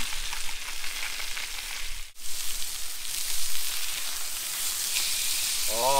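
Mahi mahi seasoned with a barbecue rub sizzles steadily on a barbecue grill, a dense, close frying hiss that runs unbroken apart from a brief dip, with no talking over it.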